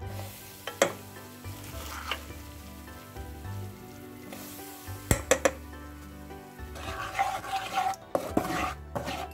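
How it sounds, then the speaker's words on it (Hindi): Dry ginger powder roasts in a pan for dry fruit laddu, a soft continuous sizzle punctuated by several sharp spoon scrapes and clinks against the metal, close and without talk. "इसको भी हम 2-3 मिनट तक भून के इसको भी एक तरफ निकाल लेंगे"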